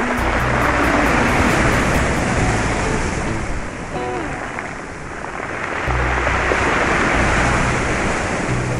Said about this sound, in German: So, eine gewaltige Brandung hier.